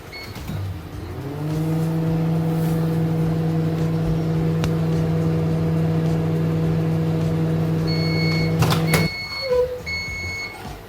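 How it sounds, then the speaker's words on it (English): A steady low electric hum runs for several seconds like an appliance motor, ending abruptly with a click, followed by a few beeps. "I'll put it in the microwave just for about a minute."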